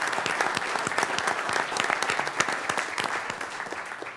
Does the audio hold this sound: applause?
yes